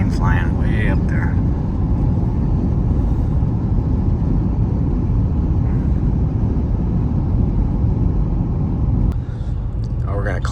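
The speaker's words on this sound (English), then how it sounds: "See a plane flying way up there." A steady, loud low rumble of an airplane flying high overhead fills the outdoor scene without a break, and a voice speaks briefly near the start and again at the end.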